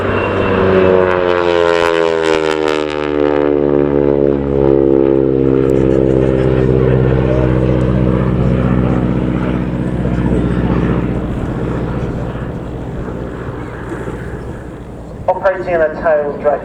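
A tail-dragging propeller trainer flies past at the RAF Cosford Airshow, its engine drone loud and near with a pitch that slowly sweeps down as it passes, then fading before a short burst of noise at the end.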